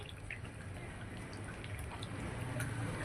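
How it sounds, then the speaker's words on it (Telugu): Water trickles and drips into flour dough in a bowl while making kara gavvalu, a soft, close, steady wet pour over low background hiss with no talking. "ఇప్పుడు నీళ్లు పోస్తున్నాను నేను"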